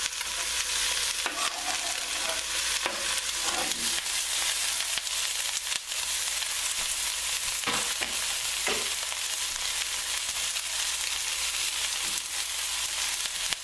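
Sliced onions for French onion soup sizzling steadily in a pot, with occasional stirring scrapes over a constant hiss.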